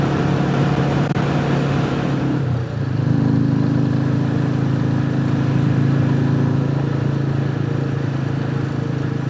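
Royal Enfield Classic 350 motorcycle riding at speed, a loud steady engine drone with heavy wind rush, the tone shifting slightly partway through and then holding constant.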